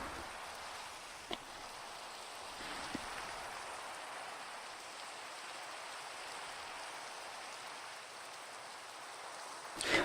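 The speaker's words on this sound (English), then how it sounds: "Rain, can you stop already?" Rain falls in a VR video game as a soft, even patter that holds steady throughout, with a couple of faint, sharp ticks and a small bump at the very end.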